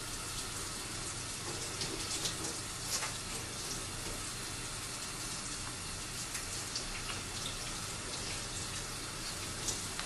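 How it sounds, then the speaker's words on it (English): Hands being washed under a running tap with warm soapy water, a steady close splashing stream with small irregular splatters, no talking. "wash my hands with warm soapy water for 20 seconds"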